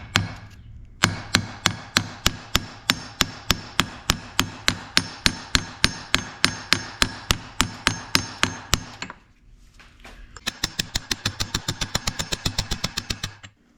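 Steady, rapid metallic tapping as press-fit seals are tapped into a Willys Jeep transmission housing, about three strikes a second, pauses briefly, then resumes faster and slightly softer; close and sharp, no voices.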